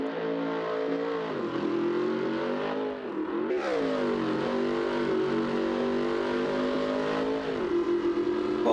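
Cammed LS3 V8 in a 1968 Camaro revving hard on nitrous in BeamNG Drive, a loud sustained engine roar climbing in pitch, dipping briefly near the middle, then surging again.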